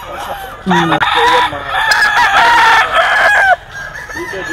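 Roosters crow loudly and close among a large flock of fighting cocks at a busy poultry market, several overlapping cock-a-doodle-doos with clucking between, and someone talks briefly nearby.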